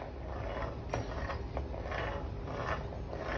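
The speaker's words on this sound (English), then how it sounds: "I'm about to put the crank back in now, and we'll spin it around" A VW 1800cc stroker crankshaft is turned over inside the engine case, giving faint, evenly spaced mechanical clicks and soft knocks over a low hum, with no voices.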